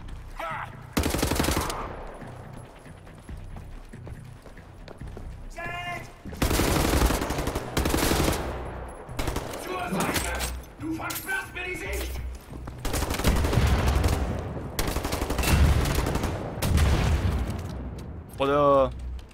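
Rifle gunfire in Wolfenstein The New Order rips out in loud bursts of rapid shots separated by short lulls, with booming impacts and a voice talking in the gaps.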